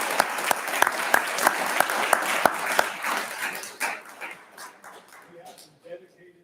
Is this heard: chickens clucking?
no